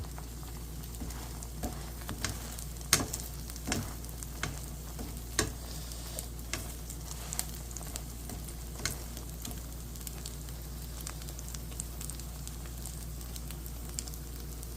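Kimchi pancake frying in oil, a steady crackling sizzle with scattered sharp pops and spatters at close range, continuing alone without talk.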